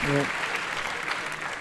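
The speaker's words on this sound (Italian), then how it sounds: "Un applauso agli anziani" Applause for the elderly during an Italian comedy show, a brief, moderately loud patter of clapping from a crowd, with a short tonal voice sound at the start.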